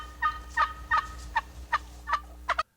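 Turkey gobbling from a backyard practice pen, seven loud, close gobble bursts spaced evenly over a few seconds, with no talk over them.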